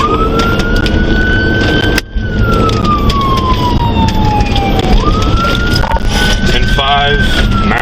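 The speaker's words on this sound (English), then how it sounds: "Throw your lights on, throw your siren on." A loud police siren wails up and down close by over heavy road and engine noise, with a short electronic yelp burst near the end.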